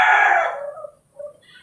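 Rooster crowing on a farm where chickens are kept, one loud close crow that fades out, followed by a brief softer call.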